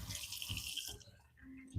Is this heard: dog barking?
no